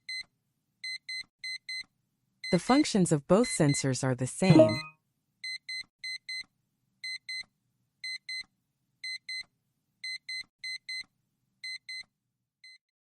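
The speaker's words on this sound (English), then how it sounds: "When the film paper bulges, it will light up a red light and trigger a beeping sound" A P13 printer's print head safeguard sensor sounds a repeating alarm of short, bright paired beeps in a steady rhythm. A voice speaks briefly over it near the start.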